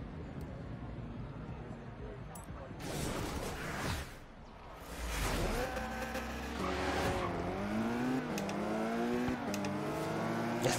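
A Jaguar E-Type racing in Forza Horizon 3, its engine revving and climbing through the gears, rising and falling in pitch with brief tire noise, steady and close, with someone talking over it at times.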